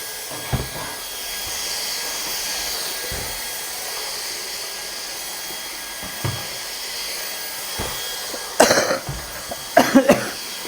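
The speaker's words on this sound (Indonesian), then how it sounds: "Batukku udah mulai mendingan." A person coughs several times in a home, a few faint isolated coughs followed by louder clustered coughs near the end, all over a constant hissing background noise.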